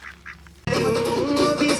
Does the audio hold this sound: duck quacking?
yes